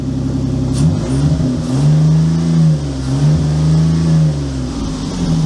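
A car engine, fitted with a key security ring, revs right after starting, a loud close idle rising into a couple of sustained revs and falling back, with no talk over it.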